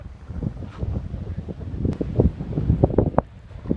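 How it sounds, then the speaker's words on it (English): Buffeting wind blasts on the microphone, loud and continuous with irregular thumps and gusts, no talking. "It's quite windy, so you might get a lot of wind in this video"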